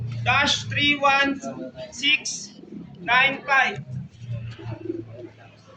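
Racing pigeons cooing at a morning release in San Simon, Pampanga, with soft coos mixed under steady nearby talking by several people.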